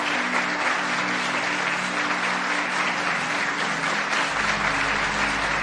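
Sustained applause from an audience at a spiritual wisdom talk, steady and dense for the whole stretch, with no speech over it.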